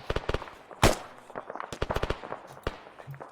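Rifle and machine-gun fire in ARMA 3 during platoon training, a sharp loud crack followed by scattered bursts of distant gunshots in an irregular rhythm.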